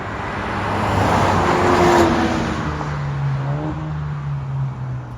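A 2019 Alfa Romeo Giulia with a 2.0L turbo and straight-pipe exhaust drives past, its engine tone swelling as it approaches and fading as it moves away, loud and alone with no voices.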